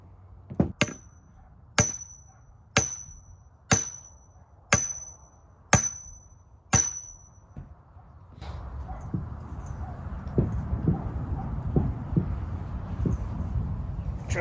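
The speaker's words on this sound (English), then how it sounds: "Found a sledgehammer, so I'm gonna give this a try." Sledgehammer driving a wooden fence post: seven loud, ringing strikes at an even pace about one second apart, followed by a steadier rumble of outdoor noise and scattered knocks.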